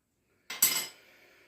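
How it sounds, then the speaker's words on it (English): A metal teaspoon strikes a bowl holding boiling water, giving one short bright clink and then a second, louder one that rings and fades within about a second. "We'll show a teaspoon in there."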